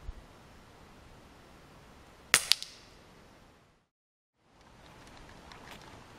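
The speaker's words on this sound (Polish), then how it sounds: "No więc, jesteśmy po teście strzelania." Dan Wesson 6-inch airsoft revolver firing outdoors, two sharp snapping shots in quick succession, then a short stretch of silence and faint background noise.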